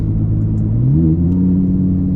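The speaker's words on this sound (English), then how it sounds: "the first thing you notice is the exhaust tone. It's a lot more aggressive." An Audi R8 switched into dynamic mode revs its engine, the aggressive exhaust note rising in pitch and holding a loud, close, continuous drone with no talking.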